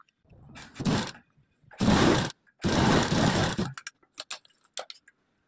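A sewing machine stitches a folded strip along the lining of a blouse in short bursts: three runs of whirring stitching separated by pauses, followed by a few quick ticking taps, close and moderately loud.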